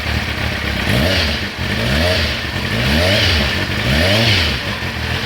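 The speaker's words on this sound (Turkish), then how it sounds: "Egzozun sesi bu. Deneyelim bakalım." A motorcycle engine revs up and down four times in a steady rhythm, its exhaust rumbling loud and close between each throttle blip.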